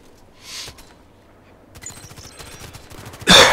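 Gunfire from a silenced DT SRS sniper rifle in a first-person shooter, a quiet muffled shot followed by rapid ticking reports and a loud sharp blast at the end, with no voices.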